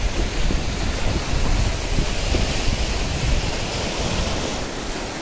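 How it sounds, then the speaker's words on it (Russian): Open-sea waves at the mouth of Gelendzhik Bay near Tolsty Cape roll in a constant broad wash of surf with gentle swells in loudness, heard alone and close. "Посижу, послушаю шум моря, повдыхаю его аромат."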